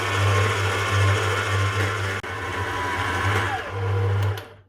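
A stand mixer kneads brioche dough flavored with orange blossom, giving a steady mechanical whir and hum at close range that keeps going without a break, with one brief dip partway through.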